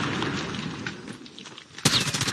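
A high-recoil gun fires in a video game, heard as rapid cracking shots amid game noise, ending in one sharp, loud report.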